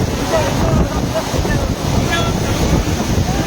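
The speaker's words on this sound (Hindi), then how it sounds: "यहाँ जल का आप तीव्र गति का बहाव देख सकते हैं, कितना शानदार बहाव है।" Fast-flowing mountain water rushes steadily in a broad, constant roar, close and loud with wind buffeting the microphone throughout.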